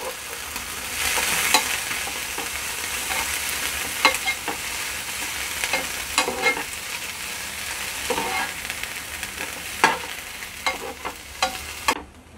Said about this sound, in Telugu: ఇలాగా వామాక్ అంతా కూడా ఆయిల్లో ఫ్రై అయ్యేంత వరకు ఫ్రై చేసుకోవాలి